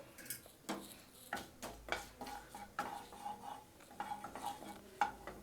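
Cinnamon and bay leaf dropped into hot oil in a kadai for a Chettinad mushroom gravy, heard as a light sizzle under repeated clinks and scrapes of a metal spoon stirring, close and without talk.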